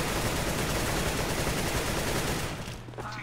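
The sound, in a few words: gunshot in the video game Counter-Strike: Global Offensive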